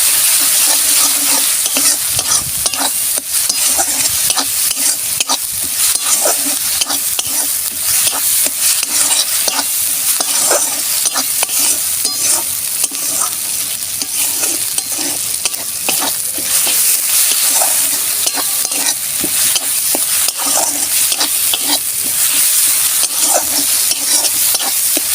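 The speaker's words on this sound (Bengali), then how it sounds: "এবারে দেব আমি ঝাল লঙ্কার গুঁড়ো, হলুদ গুঁড়ো, ভালো করে আমি কষাবো" Chilli and turmeric powder fry in hot oil for a doi potol curry, a loud, dense sizzle with constant scraping and clatter of a spatula stirring the spices, close up and unbroken throughout.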